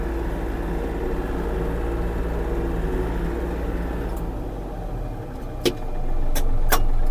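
Yanmar AF-333 cab mini tractor engine droning steadily and loudly while driving, dipping briefly before rising again, with a few sharp clicks and knocks late on.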